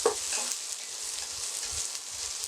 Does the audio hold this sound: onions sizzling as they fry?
yes